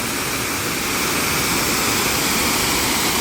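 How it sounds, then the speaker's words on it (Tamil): A waterfall on a restricted hidden route near Ooty pours steadily in a dense, unbroken roar of rushing water, loud and close, with no voices. "அந்த ஃபால்ஸோடைய சவுண்டே கேட்குறதுக்கு வேறு மாதிரி இருக்குதுங்க"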